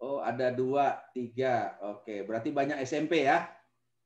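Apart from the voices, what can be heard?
None of the usual background noises is heard.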